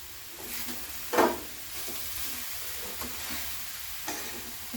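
Jaggery melting in a pan hisses softly under a steady sizzle, broken by several short scraping strokes of a spoon, the loudest coming early.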